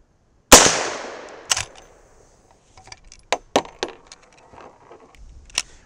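A .357 Magnum Henry Big Boy lever-action rifle firing powder-coated 158-grain loads at swinging steel plates: a loud close shot with a long decay, a second shot, then a series of sharp metallic pings and clanks.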